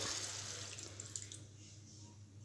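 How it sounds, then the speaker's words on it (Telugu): Water from about a glass is poured into a pan of raw mango curry (mamidi kaya pulusu), a soft splashing hiss that trails off into quiet before a sudden sharp clatter at the end. "నేనైతే ఒక గిలాస్ నీళ్ళు వేసినా అండి"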